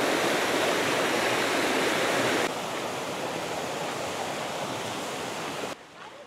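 Clear stream in a Zhangjiajie rainforest rushing and splashing over rocks, a steady broadband water roar that drops slightly in level partway through and continues without voices.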